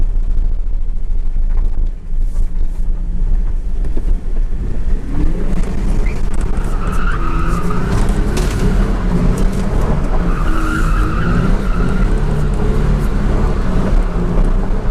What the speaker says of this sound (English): I need to practice drifting around objects